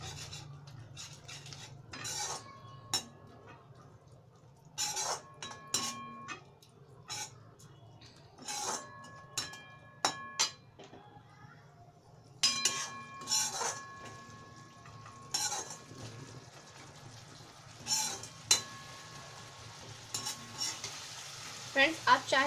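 Potato and pumpkin curry being stirred in a pan for aloo kumhrauri, cooked Bihari style: a steady low sizzle under repeated scraping strokes and spoon clinks, arriving in short bursts and gaps over a quiet background.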